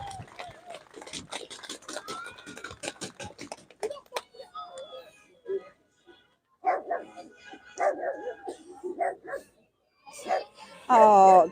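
Outdoors on a lawn, a dog barks in a quick run of sharp yaps, followed by scattered pauses while people talk nearby.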